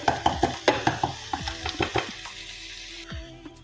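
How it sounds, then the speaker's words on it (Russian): Mushrooms and onions sizzling in a pan with rhythmic scraping and stirring clatter, busy at first, then settling into a quieter sizzle. "жарить грибочки с лучком"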